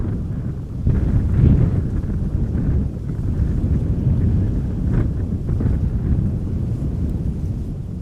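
Steady gusting wind rushing across an outdoor microphone at Amsterdam Schiphol Airport, a continuous low roar with mild swells and no voices.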